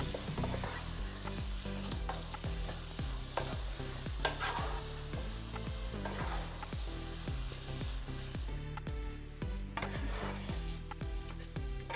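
Fried fish pieces stirred into masala in a pan for fish pickle: repeated scraping strokes of a spoon at a steady rhythm over a continuous sizzle, close and alone.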